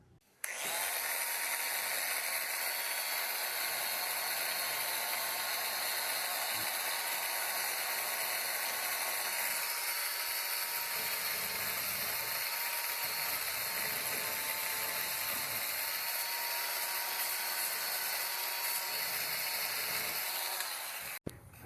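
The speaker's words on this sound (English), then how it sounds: "this is just a little Win detail sander. It just takes this tiny little belt" A small Wen detail sander with a tiny belt runs on wood, giving a loud, steady, unbroken whine with a rattling mechanical edge for about twenty seconds, with no talking.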